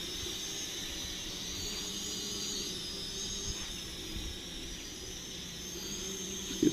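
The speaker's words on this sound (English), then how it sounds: "Yeah, it's noisy with those bent motors." DJI Mavic clone quadcopter drone with bent motors flying, a steady high-pitched whine and hiss holding throughout with a low rumbling layer beneath, fairly distant and even, no voices.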